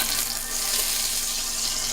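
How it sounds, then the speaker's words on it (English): Chicken sizzling in hot oil in a pot, a close, steady crackling fry with bright hiss filling the whole moment and no voices. "dipping part of your meat in there and see if it starts to sizzle"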